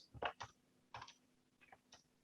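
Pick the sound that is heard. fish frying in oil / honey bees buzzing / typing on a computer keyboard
typing on a computer keyboard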